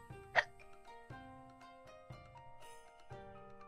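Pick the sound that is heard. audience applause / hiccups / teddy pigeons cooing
hiccups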